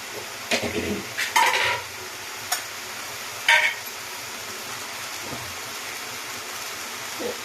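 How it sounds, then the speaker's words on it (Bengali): Water spinach (kalmi shak) frying in a pan is stirred with a utensil, with a few sharp scrapes and clinks against the metal over a quiet background sizzle. "এটা আবার নাড়িয়ে চালিয়ে নেব"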